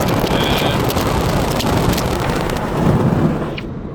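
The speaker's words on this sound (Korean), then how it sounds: "방금 바람 소리 들었죠?" Strong wind blowing outdoors over a wide farmland plain, buffeting the microphone with loud, continuous broadband rumble and gusts, close and unbroken with no talk.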